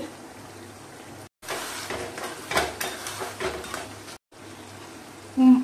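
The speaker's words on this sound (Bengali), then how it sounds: "এইভাবে নেড়ে নেড়ে মশলা কষাবো আস্তে আস্তে।" Ground cumin and coriander being stirred and fried in a pan for mutton curry, soft scraping and clinks over a low sizzle, with brief gaps of silence and a short louder knock near the end.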